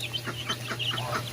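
Leghorn and Rhode Island Red mix chickens cluck softly and continuously close by, a busy chatter of short overlapping calls over a steady low hum.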